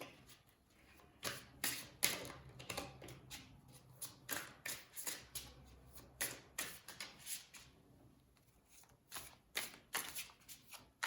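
Tarot cards being shuffled by hand in a long run of quick, soft riffles and slaps, close up and quiet, with an irregular rhythm and no talk.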